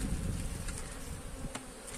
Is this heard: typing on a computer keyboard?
no